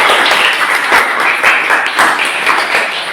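Lively applause from a classroom of students for a group that has just presented, steady, dense clapping that carries on throughout and eases slightly at the end.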